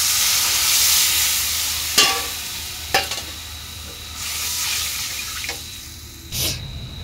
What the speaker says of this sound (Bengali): এবার মশলা কষানো হয়ে গেছে।